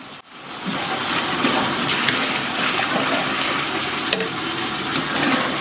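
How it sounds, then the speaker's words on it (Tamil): Water is poured into a pot of chicken curry made with chicken masala and chili powder, being cooked as a large batch for idli, producing a steady, loud rushing and splashing that begins abruptly and continues throughout. "தண்ணி ஆட் பண்ணிக்கலாங்க."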